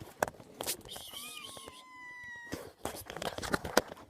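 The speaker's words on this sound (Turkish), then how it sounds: "Kedi geçti önümden arkadaşlar" A cat meows a few times, drawn-out and tonal with a rising-falling pitch, amid clatter and some speech.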